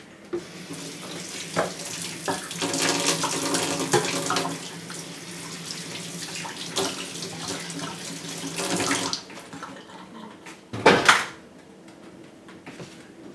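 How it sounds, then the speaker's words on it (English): Hands and a pair of scissors are rinsed under a running kitchen tap: a steady, close rush of water for about nine seconds, then the flow stops and a brief clatter follows. "I think I need to wash my hand, and I'll just wash this scissor too."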